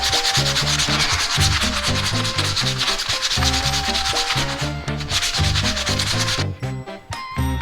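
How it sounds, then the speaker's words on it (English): Wood pieces for a limbo game being hand-sanded with sandpaper, loud rhythmic back-and-forth rubbing strokes close up, continuous and fast, breaking off briefly near the end. "I have sanded down these two pieces to 220 grit"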